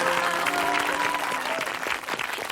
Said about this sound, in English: how about another big round of applause for our happy couples?